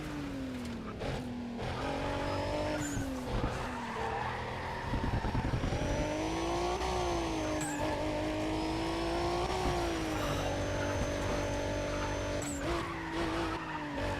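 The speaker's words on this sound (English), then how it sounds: "let you listen to the proper VR6." Loud VR6 engine in NFS Pro Street revving through repeated gear shifts, pitch climbing and dropping in waves, with tire skidding and squeal mixed in, continuous and close for the whole stretch.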